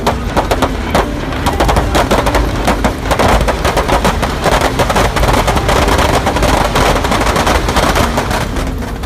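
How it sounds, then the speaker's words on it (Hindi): Dense, rapid crackling bursts of firecrackers popping continuously inside a burning Ravana effigy at Dussehra, loud and close, with sharp bangs overlapping in a constant chaotic barrage. "उसके अंदर के सारे पटाखे फूटने लगते हैं"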